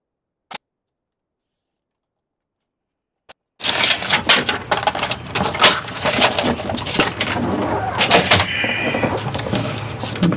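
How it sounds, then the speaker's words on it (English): Scissors cut a strip off an altered book page in a quick run of crisp, close snips and paper rustles that last several seconds, after two isolated clicks in near silence. "I'm going to cut the strip off a little bit. Cut off a little bit of a strip."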